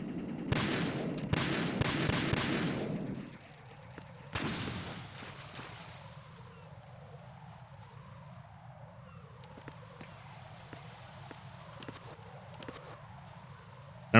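Gunfire in the stealth game Metal Gear Solid 2: a loud, close cluster of rapid shots in the opening seconds, then quieter game ambience with faint rhythmic background sound and small clicks.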